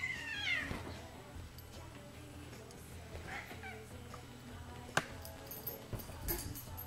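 A cat meows, faint and somewhat distant, with a rising call near the start and a few softer mews amid low background noise.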